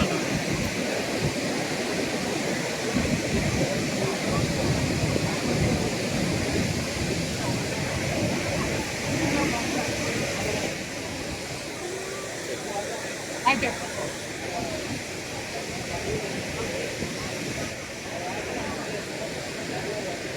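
The Sivanasamudra waterfall in flood sends up a constant, dense roar that fills the whole span, with people talking over it.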